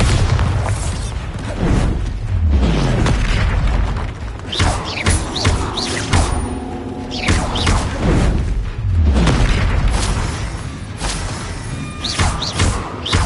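Repeated booming spell blasts from Confringo and Bombarda curses in Hogwarts Legacy, loud thuds and bursts recurring every second or two across a dense, continuous game battle with whooshing effects.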